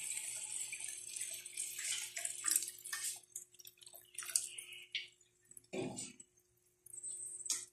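Water is poured and splashes into a cooking pot of tilapia with tomatoes and fermented black beans, coming in intermittent splashy bursts and drips over a quiet kitchen background.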